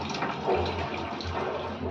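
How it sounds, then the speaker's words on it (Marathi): Hot water pours steadily into a pot of ivy gourd curry with a continuous rushing, splashing sound, close by and fairly loud for the whole stretch. "त्याच्यामध्ये आपल्याला गरम पाणी घालायचं आहे"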